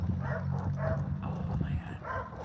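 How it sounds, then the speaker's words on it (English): Dog barking in a house, with repeated close, loud barks in a quick rhythm and a voice talking alongside. "that dog is a frigging nuisance"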